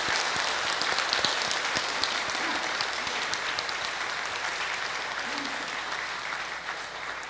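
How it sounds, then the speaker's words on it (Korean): Sustained applause from a church congregation during a Sunday service, dense steady clapping that fills the room without pause, with faint murmurs beneath. "한번 진심으로 한번 박수를 좀 쳐주세요"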